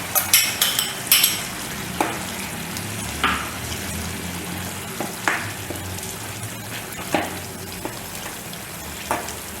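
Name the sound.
coconut paste added and stirred into sprouts gravy in pan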